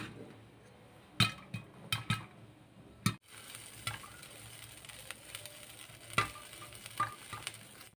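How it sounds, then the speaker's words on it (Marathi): Popcorn kernels popping in hot oil inside a pressure cooker with its lid resting loosely on top: scattered sharp pops, a few per second, with a soft sizzle beneath, close and moderately loud. "हे बघा, पॉपकॉर्न व्हायला सुरुवात झालेली आहे."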